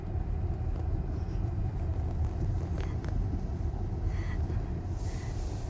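City traffic crawling through snow in Edmonton at minus twenty during rush hour near construction: a continuous low rumble of car engines and tires, steady and fairly close, with no voices.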